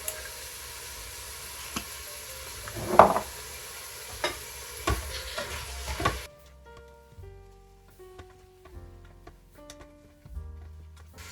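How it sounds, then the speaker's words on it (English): Ground beef seasoned with cumin sizzles and browns in a pan, with scraping stirs and clicks of a utensil at close range, quieter after the first half. "So it's browning up nicely."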